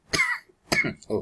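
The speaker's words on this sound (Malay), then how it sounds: "batuk pula pagi ni" Three short, rough bursts close by, a cough or throat clearing, each brief and separated by short pauses.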